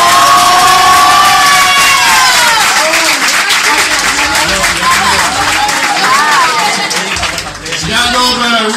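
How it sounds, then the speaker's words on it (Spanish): Loud, sustained audience applause at a Spanish-language stand-up comedy night at the Shanghai Comedy Club, a dense wash of clapping and cheering from the crowd with babble mixed in, fading slightly near the end before swelling again. "un aplauso a todos"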